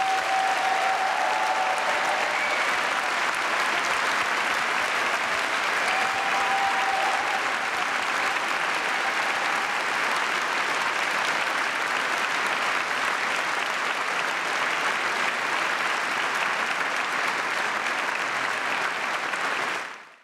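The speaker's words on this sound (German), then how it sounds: "das ist euer Applaus vom Publikum" A concert-hall audience at a poetry slam awards show in the Elbphilharmonie gives dense, steady, loud applause that holds evenly for about twenty seconds before cutting off abruptly.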